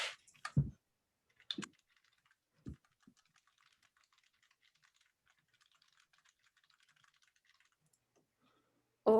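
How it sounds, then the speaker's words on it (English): Light typing on a computer keyboard during a manifesting workshop, a quiet steady patter of key clicks lasting several seconds, with brief bits of voice at the start and end. "I'm typing this as well too."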